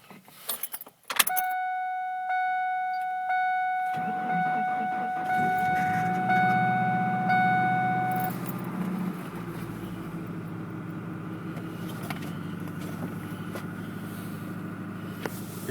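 A 1998 Ford Ranger pickup is cold-started in freezing weather around minus 20: keys jangle and a chime rings, then the starter cranks briefly and the engine catches into a steady, loud idle that continues to the end.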